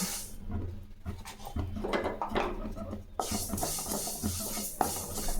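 Sesame seeds roasting in a pan for spicy idli podi, a soft dry crackling and stirring scrape of seeds against metal, faint and close with uneven rustling bursts.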